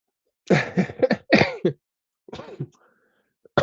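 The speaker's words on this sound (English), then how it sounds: "Why am I coughing?" A burst of harsh coughs and throat clearing, close and loud, followed by a shorter second bout and another cough at the end.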